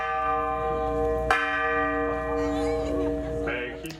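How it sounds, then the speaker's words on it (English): A large bell rung for an El Grito de Independencia reenactment marking the 215th anniversary, with a sustained ringing tone and a fresh strike partway through, loud and reverberant amid faint crowd noise. "City officials reenacted the ringing of the bell for El Grito de Independencia to mark the 215th anniversary."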